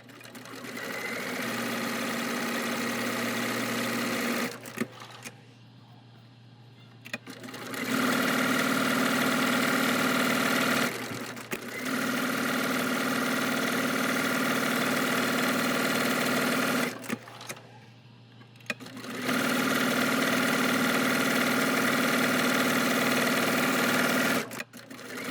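A sewing machine stitches quilting lines into side pieces backed with fusible fleece, running in long steady bursts of rapid whirring with short pauses between them.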